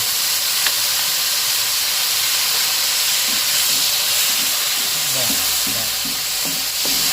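Steady, loud sizzle and hiss of fish sautéing in a hot pan with fish sauce, continuous frying noise with a few faint clinks of stirring.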